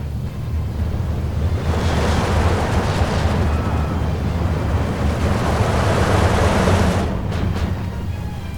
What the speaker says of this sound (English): I'm putting coordinated artillery on his mortars.